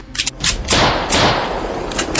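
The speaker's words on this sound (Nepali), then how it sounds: "बचाऊ गोली चलायो।" About six sharp gunshots crack out in uneven bursts, loud and close, with some thumping in between and no speech.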